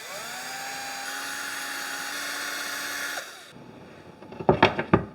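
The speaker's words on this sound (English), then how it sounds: "I pre-drill here because it's much easier to pre-drill here than in the cabinet" A power drill pre-drills scrap wood, whining steadily for a few seconds at close range, spins down, then a few sharp knocks and clunks of wood follow.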